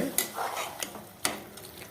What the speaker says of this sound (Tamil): கிண்டி விட்டு பார்க்கலாம் தண்ணி போதுமான்ட்டு